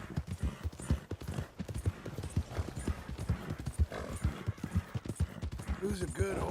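Hooves of a horse clip-clop in a steady walking rhythm in Red Dead Redemption 2, close and distinct, with a faint whinny near the end.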